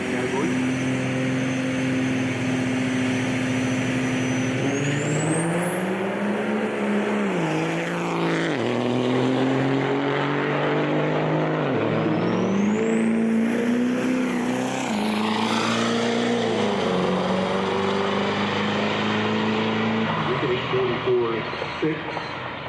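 Diesel pickup trucks in the 770 class racing down a drag strip at the Ultimate Callout Challenge 2022, engines roaring loud and continuous, rising in pitch through two hard runs with an announcer talking over them.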